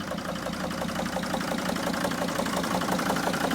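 A 2002 Mercedes Sprinter T1N van's engine idles roughly with a fault that makes it smoke, giving a steady, close, uneven diesel clatter with a faint knocking pulse and no voices.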